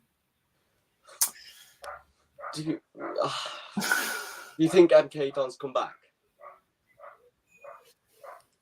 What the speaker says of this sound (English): Is that your dog or mine? No, it's not my dog.